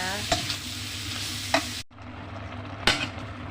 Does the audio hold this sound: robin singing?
no